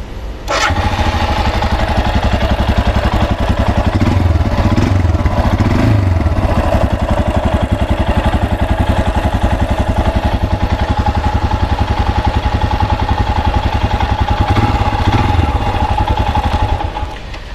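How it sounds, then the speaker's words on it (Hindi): A Royal Enfield Scram 411 motorcycle starts with a sharp burst and settles into a steady, loud single-cylinder thump that idles close by and evenly for over fifteen seconds before cutting off. "तो कुछ इस तरीके का है इसका साउंड"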